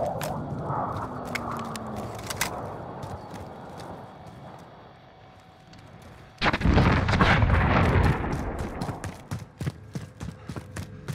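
An artillery strike called in during a Call of Duty Warzone match lands as a sudden loud sustained barrage of heavy booms and rumbling blasts, with sharp gunshot cracks scattered before and after it and no talk.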